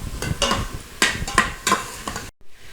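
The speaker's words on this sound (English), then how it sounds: "stir that up a little bit and cook that for just a couple more minutes" A utensil stirs garlic cooking in an Instant Pot, giving several close scraping strokes at an uneven rhythm over a light sizzle, then stopping abruptly.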